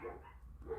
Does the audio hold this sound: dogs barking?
yes